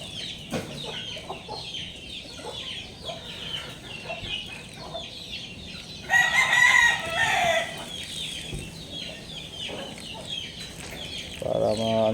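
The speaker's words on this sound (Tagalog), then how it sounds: "Para sa ating mga sisiw." Backyard chickens cluck and murmur steadily at moderate distance while a rooster crows loudly once partway through, with a brief burst of clucking near the end.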